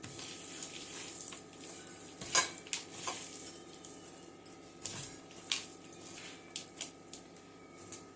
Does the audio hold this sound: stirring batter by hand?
yes